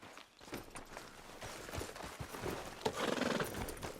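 Horse in the Red Dead Redemption 2 video game, with steady clip-clopping hooves and a brief whinny in the background, faint and moderately close.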